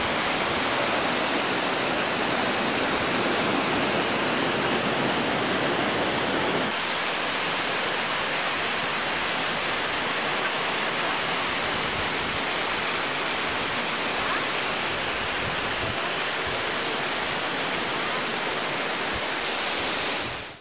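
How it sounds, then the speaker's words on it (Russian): A waterfall roars continuously at close range, a dense, loud, steady rush of falling water with no speech over it. "Покидаем водопад."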